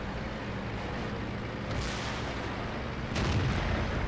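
A tank cannon firing in World of Tanks, a Chinese tier 10 medium tank trading shots with enemy armor, with dull booms rising over steady rumbling battle noise, a stronger report near the end.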